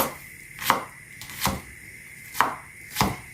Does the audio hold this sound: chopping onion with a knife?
yes